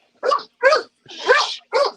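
A dog barks four times in an even, steady rhythm, close and fairly loud, each bark short and rough with silence between, no talk over it.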